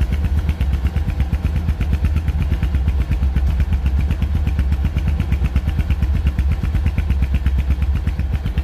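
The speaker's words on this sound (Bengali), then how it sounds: "তো রানিং অবস্থায় গাড়িটির সাউন্ড শুনে বুঝতে পারলেন যে গাড়িটির ইঞ্জিন কোয়ালিটি কেমন আছে।" Close, steady idling of a Runner Bullet 100 motorcycle (2020 model) engine, with a rapid, even chugging pulse and mechanical clatter, no voices.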